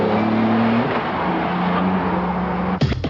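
A Mercedes CLK-GTR sports car with a six-speed gearbox and over 600 horsepower drives with a loud, sustained engine drone that holds steady, then ends in a sharp burst of tire noise near the end.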